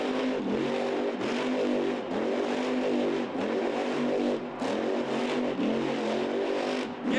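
A monster truck engine at the Monster Jam World Finals roars and revs continuously as the truck spins in tight cyclones in an arena, with rhythmic pulsing surges in pitch and a loud, sustained, near engine note.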